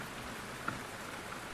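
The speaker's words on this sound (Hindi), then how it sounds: "दुकान के बाहर बारिश अब भी बेरहमी से बरस रही थी।" Heavy rain pours steadily outside a shop, a constant soft hiss of drops with a faint tap or two and nothing else heard.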